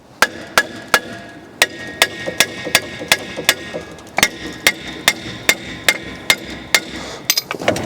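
A hammer taps along the seam of a rusty old drum brake, producing about twenty sharp metallic knocks in a fairly regular rhythm, loud and close with no talking.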